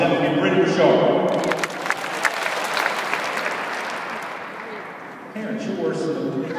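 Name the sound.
audience clapping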